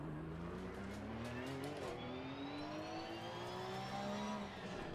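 Porsche 991 GT3 R with a naturally aspirated flat-six revving toward 9,000 RPM at Zandvoort in a racing video game, a loud sustained engine note that climbs through the gears and shifts, continuous with no talk.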